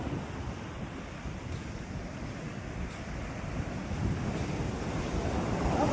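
Rough waves break and wash along a seashore, a steady broadband rush of surf with wind buffeting the microphone, swelling slightly louder toward the end, with no voices.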